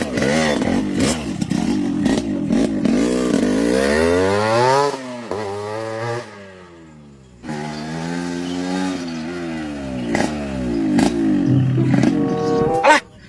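A motorcycle taxi engine revving and rising in pitch, dropping away and then building again with sweeping, strained tones, with bursts of clatter at the ends.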